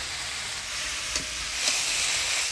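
Chopped kalmi greens with green chilli, coriander, cumin, ginger paste, turmeric and salt sizzle in a pan in a village kitchen, a steady bright hiss with a couple of quick spatula scrapes as it is stirred.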